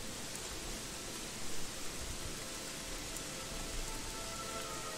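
Steady rain falls in the video game Gothic 3, a soft, even hiss of continuous rainfall that stays faint and unchanging, with no voices.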